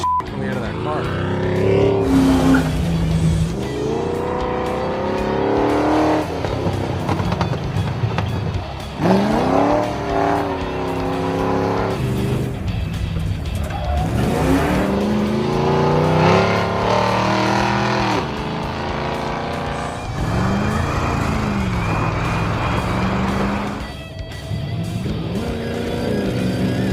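A 1970 Dodge Challenger running a 440 engine pulled from a motorhome revs hard and drives off with repeated tire squeals and engine surges, while people talk loudly over it throughout.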